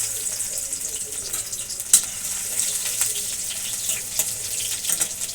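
Crushed garlic frying in hot oil, a steady close sizzle with scattered crackles and a few stirring clicks, no talk over it.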